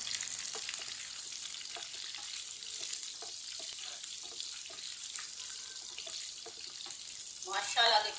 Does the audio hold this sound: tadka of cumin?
yes